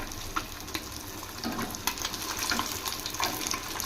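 Marinated fish pieces, Nellore-style fish fry coated in masala, crackle and hiss as they fry in hot oil in a pan, a steady busy sizzle with small pops and scraping, close by, no talking.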